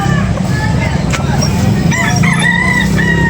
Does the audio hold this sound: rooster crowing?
yes